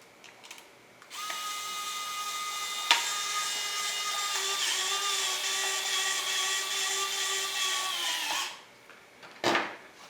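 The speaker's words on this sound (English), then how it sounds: "we're going to drive down bolt number 1. We're going to run bolt number 2." A power driver runs two bolts into the hull to mount the rudder servo of a Smoothy Footy RC sailboat, giving one long, steady whirring drive that changes pitch partway through and stops sharply, with a brief click after.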